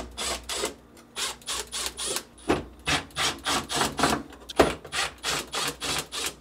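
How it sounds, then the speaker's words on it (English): A Phillips head screwdriver backs out screws holding the slides of a GE French door refrigerator, making a close series of rhythmic scraping, grinding bursts, evenly spaced and alone without talk. "remove the two screws holding them in place using a Phillips head screwdriver"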